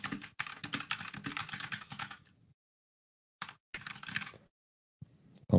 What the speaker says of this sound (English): Apologies for my terrible typing.